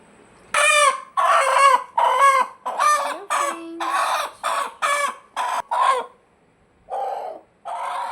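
A hen clucks and cackles in a rapid run of loud, close bursts, pausing briefly before a couple more calls.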